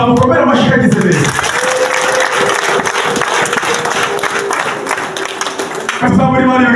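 A church congregation applauds for the prophet in a long, dense burst of clapping between stretches of loud preaching, with the voice returning briefly at the start and end.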